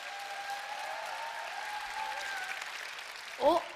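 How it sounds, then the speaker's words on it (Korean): Applause from an audience greeting a speaker at a business event, a steady, even patter of clapping with a tonal hum running through it, ending with a short vocal sound near the close. "내려가라는 박수 같은데요?"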